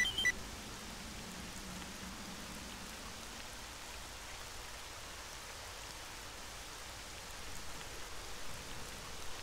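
Steady rain in the video game S.T.A.L.K.E.R., a soft even patter of drops on surfaces, faint and continuous with no talk.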